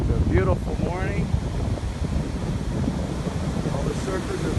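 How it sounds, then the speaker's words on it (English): Big king-tide waves roll in at Riviera Beach, Palm Beach County, in a steady roar muffled by heavy wind on the microphone, with a voice briefly heard early on. "Look at those waves."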